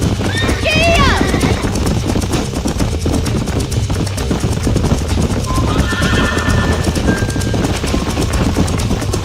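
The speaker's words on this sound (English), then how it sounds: "These are fine horses." Horses in Red Dead Redemption neigh loudly near the start and again midway, while hooves clop steadily throughout over a busy game soundscape.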